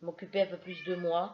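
A domestic female cat in heat meowing indoors, short plaintive cries mixed in under someone speaking French close by.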